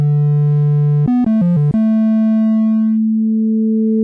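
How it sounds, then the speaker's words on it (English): Dave Smith Instruments Pro 2 synthesizer playing a pure sine wave with shape modulation: a loud steady tone jumps through a quick run of stepped pitches, then settles on a higher sustained note, with nothing else audible. "just be happy with this really awesome sine wave sound"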